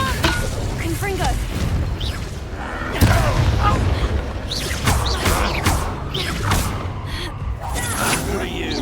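A Confringo blasting spell in Hogwarts Legacy erupts in a loud boom followed by crashing and clattering combat effects, with voices speaking over the fight.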